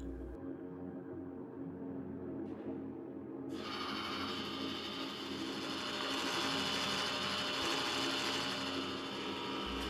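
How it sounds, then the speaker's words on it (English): An ice cream maker's mixing motor churns a cream and sugar mixture in its bowl. A quiet hum jumps to a loud, steady mechanical whir that continues unbroken. "Attach and activate the mixing motor."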